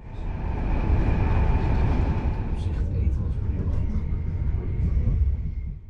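A steady low rumble of an NS Intercity Direct train rolling along the tracks in the Netherlands, with a faint hum and occasional clatter, heard from inside at an even level.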